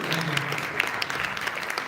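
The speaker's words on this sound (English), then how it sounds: "A round of applause for him, please." Applause from the audience at a smartphone product launch event, a steady wash of clapping at moderate volume with scattered sharper claps, no voices standing out.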